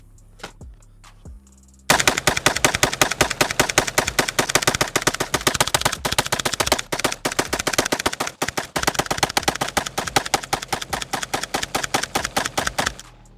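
A Stenzel SAK-21 AK rifle fed from a drum magazine fires a long, rapid string of loud close-range shots at an outdoor range, each report sharp and evenly spaced after a short quiet start.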